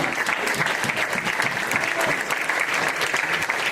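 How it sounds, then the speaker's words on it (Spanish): A church congregation applauds during a Spanish-language sermon, a dense steady wash of clapping from many hands that holds at a constant level throughout, with faint voices mixed in. "Dale aplauso al Rey, porque todo lo puede"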